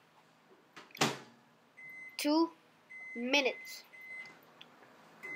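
Microwave door clunks and electronic beeps ring out while a Milo mug cake is set to cook, several short tones spaced apart, with a voice talking in between.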